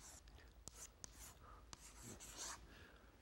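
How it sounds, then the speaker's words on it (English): Marker or chalk writing on a board, rasping strokes broken by a few sharp taps, close and fairly quiet, with faint murmuring in the background. "Let me write it again."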